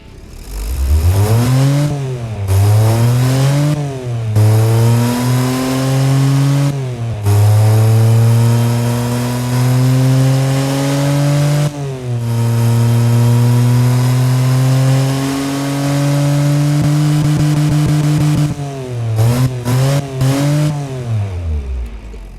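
A stock, naturally aspirated Daewoo Tico 0.8L inline-three engine in the Automation game revs loudly and steadily, climbing and holding high pitch through repeated throttle sweeps with brief drops between, no talk over it.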